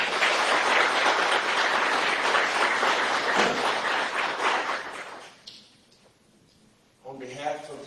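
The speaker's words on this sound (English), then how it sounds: "If you'll please give a round of applause for our candidates." An audience at the Alleghany Highlands school board candidates' forum applauds. Dense clapping lasts about five seconds, then fades away, and a short voice follows at the end.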